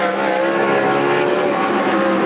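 DJ Netto's 88N sprint car engine roars steadily at Coos Bay Speedway during a Western Sprint Tour event, a loud, sustained high-revving drone with layered harmonics, close and unbroken, with no voices over it.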